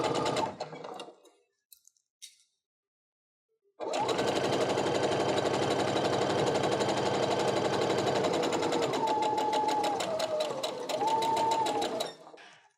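Home sewing machine stitching a seam on a split nine patch quilt block, a steady loud mechanical whir running unbroken for about eight seconds after a brief start and pause, with pitch shifting slightly as the speed changes.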